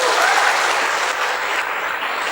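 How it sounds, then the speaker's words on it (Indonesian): Applause from a gathering of women at a community event in Aceh, a loud, dense, continuous wash of clapping that fills the whole moment without a break. "Boleh dong tepuk tangan?"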